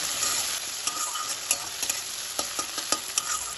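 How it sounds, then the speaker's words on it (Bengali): Ginger paste stirred and frying in hot oil for a Bengali lau dal, a steady bright sizzle broken by repeated sharp scrapes and clinks of a spoon against the pan, close and alone. "আদাটা তেলের সাথে একটু নাড়াচাড়া করে নেবো যেন কাঁচা গন্ধটা না থাকে"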